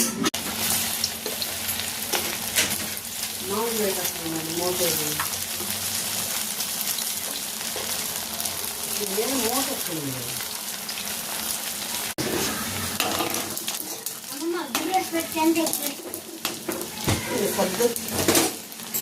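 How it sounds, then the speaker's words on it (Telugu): Vegetable manchurian balls deep frying in hot oil, a continuous bubbling sizzle with metal utensils scraping and clinking against the pan, while voices talk intermittently over the cooking. "ఇప్పుడు ఫ్రై చేసుకుందామా?"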